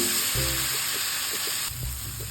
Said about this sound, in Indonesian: Tumis bumbu hingga harum, matang tanak.